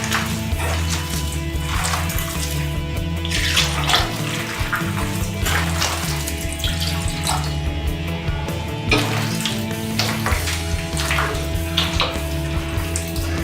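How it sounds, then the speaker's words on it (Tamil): Water splashes and trickles steadily into thick rice adai batter made from leftover rice, with faint stirring scrapes and a low background hum throughout. "நான் கொஞ்சம் தண்ணியை ஆட் பண்ணுறேன்."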